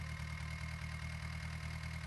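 Tractor engine in the driving game Indian Tractor Driving 3D running hard at full power, a steady low droning hum with a regular pulsing beat, continuous and fairly close, with no other sounds over it.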